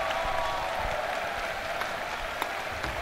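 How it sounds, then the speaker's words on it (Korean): An audience applauds after a men's singles badminton match at a university games semifinal, steady clapping filling the hall without a break, with no voices standing out. "많은 박수를 받고 있는 이동근."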